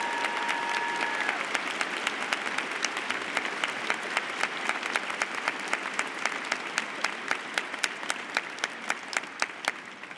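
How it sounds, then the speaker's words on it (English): A large audience applauds steadily and warmly for about ten seconds at a university psychology commencement, congratulating the graduates, with dense clapping filling the hall and no talking over it. "join me in a hearty round of applause to congratulate them all"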